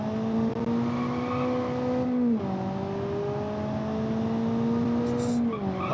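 A race car slides through a corner in a driving game, its tires squealing loudly and continuously for several seconds over a steady engine drone whose pitch dips twice, close and with no voices.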